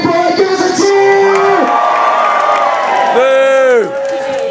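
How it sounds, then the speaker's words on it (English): Festival crowd at an outdoor jelly wrestling show cheers and whoops for the birthday boy, a loud continuous roar of voices with shouts rising above, ending with a sustained whoop. "if you're going to be supporting birthday boy, give us a cheer!"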